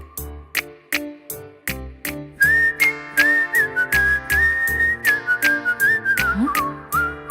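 Close, clear human whistling carries a sustained melody over rhythmic music with steady drum-like beats, the tune gliding between held notes before dipping low near the end.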